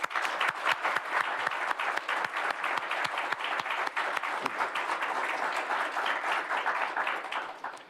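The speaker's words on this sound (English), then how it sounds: "Please join me in a hearty round of applause for these special Military Children of the Year semifinalists." A ceremonial audience applauds Military Child of the Year semifinalists, with a dense, sustained round of clapping from many hands that holds steady before tapering slightly at the end.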